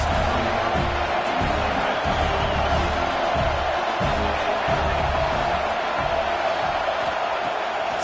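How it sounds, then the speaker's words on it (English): Home crowd roaring at a USC vs Michigan college football game, a dense, sustained wall of cheering and shouting from a large stadium audience, steady and loud throughout with no break. "how nice is it to have the home crowd going absolutely bananas?"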